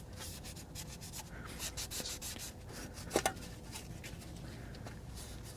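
Old grease and debris rubbed off the wheel hub backing plate of a GM 4WD SUV, a Chevrolet Avalanche, a steady close scrubbing and wiping with a couple of brief knocks partway through, no talking.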